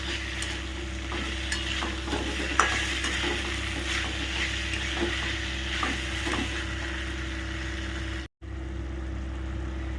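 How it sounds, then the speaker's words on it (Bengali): Continuous stirring and scraping of papaya curry in a pan over steady frying sizzle, close and moderately loud, with a brief silent gap near the end. "পেঁপের তরকারির মধ্যে দিয়ে আবার ওটাকে ভালো করে মিশিয়ে দাও"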